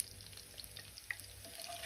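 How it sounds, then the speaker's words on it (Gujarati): Sesame seeds added to hot oil with mustard seeds and green chillies give a faint, soft sizzle with scattered light pops, quiet and close. "તલને આપણે બહુ શેકાવા નથી દેવાના।"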